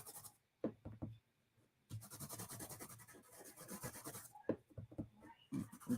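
A finger rubbing ink onto a paper card for a bas-relief card layer, giving soft, close, dry scraping strokes in repeated bursts with brief pauses between them.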